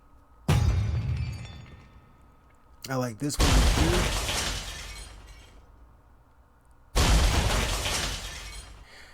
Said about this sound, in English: Let's look at some of the explosions.